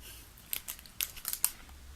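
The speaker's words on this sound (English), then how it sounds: "I'm sorry about the crinkling, these are still packaged, and I have my microphone right there" Plastic packaging crinkles and crackles close to the microphone in a handful of quick, sharp bursts, with quiet pauses between them and no voices.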